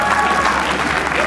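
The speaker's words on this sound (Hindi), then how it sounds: "तालियां प्लीज" Applause from a stand-up comedy audience fills the whole moment, a dense, steady clapping that stays loud and close throughout with no talk over it.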